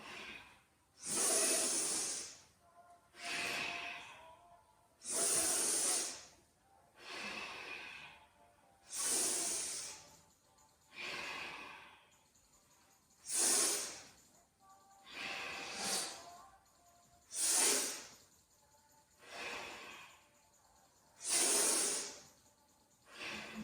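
Slow, deep yoga breaths during a flowing cat-cow sequence, each audible inhale and exhale a broad airy rush, repeating about every two seconds in a steady rhythm, close and fairly loud with no talking.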